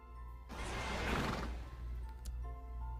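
A horse whinnies in the Horse Life video game, a loud, broad, rising burst lasting about a second, then fading into the game's steady background tones.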